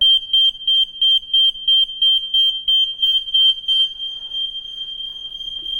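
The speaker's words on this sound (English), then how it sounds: "all you do is you just press the button, and in turn, that will set the alarms off." Smoke alarms in a brand new property sounding during a weekly test, a loud, high piercing beep pulsing rapidly and evenly for several seconds, then a steady alarm tone continuing on its own.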